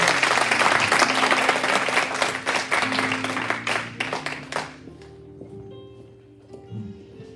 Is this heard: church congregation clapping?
yes